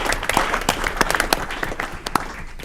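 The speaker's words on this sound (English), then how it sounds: "We can give a round of applause." Applause at an Aurora city council meeting: a roomful of people clapping steadily, with sharp individual claps standing out from the dense patter throughout.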